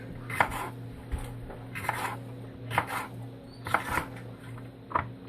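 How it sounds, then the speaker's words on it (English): A knife chops sweet mini peppers on a cutting board in a home kitchen, giving about six soft, evenly spaced thuds with brief crunchy cuts between them, close and quiet over a low steady hum. "So I'll do my sweet mini peppers. Just kind of chop them up."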